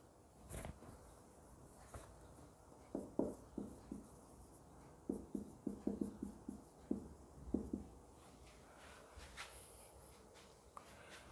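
Chalk or marker writing on a board during a fluid mechanics lecture, a series of short scratchy strokes in bursts with pauses between, fairly close and clear, with no speech.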